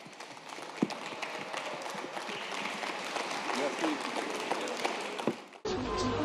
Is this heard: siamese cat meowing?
no